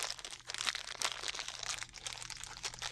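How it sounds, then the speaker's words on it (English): A small plastic bag from a junk drawer crinkles in close-up, soft irregular crackles and rustles coming in bursts, quiet and intimate with no talk. "the bag makes a nice little sound"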